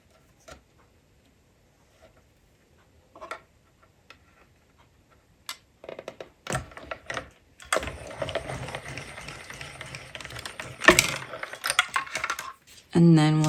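A label die cuts through cardstock in a die-cutting machine. Scattered soft clicks and taps give way to a sustained rough grinding run with a few sharp ticks, then a sudden louder burst at the end.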